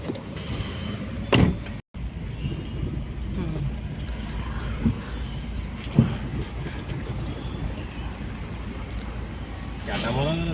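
A car being driven out, with a steady engine and road rumble and wind noise around the microphone, a few brief knocks and clicks, and voices heard faintly at times.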